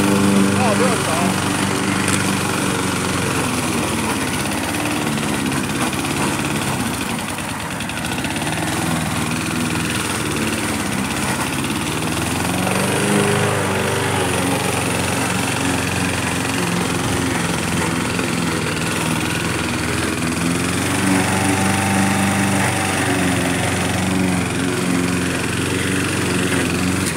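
A worn Toro Super Recycler lawn mower that burns oil runs at about half throttle, its engine droning steadily and loud throughout with small RPM dips, while a person talks over it.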